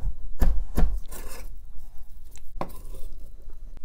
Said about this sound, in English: Let's cut up the shrimp.